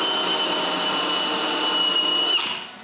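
A power drill bores holes through wooden bookcase panels with a loud, steady whine that lasts about two seconds and then winds down to quiet.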